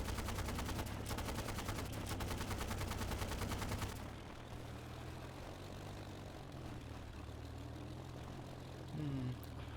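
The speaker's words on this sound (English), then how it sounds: "I'm gunning down a few Germans with some strafing runs" A P-40 fighter in the video game Easy Red 2 fires its machine guns on a strafing run: several seconds of dense, rapid gunfire over a propeller drone, then only the engine hum continues.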